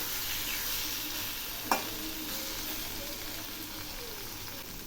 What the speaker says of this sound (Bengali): সেই জন্য এগুলি খুব ভালো করে কষিয়ে নেব সবজিগুলো অনেকটাই কষানো হয়ে আসছে